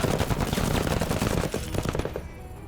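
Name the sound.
gunshots in the video game Menace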